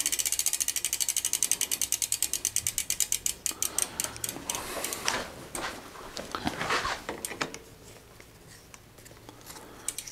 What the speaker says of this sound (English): This bike doesn't like to be pedaled backwards.